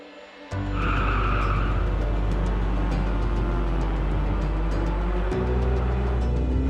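Race cars at Silverstone, a loud close engine roar that starts abruptly and holds steady with a brief tire squeal early on, then drops slightly as the sound shifts near the end.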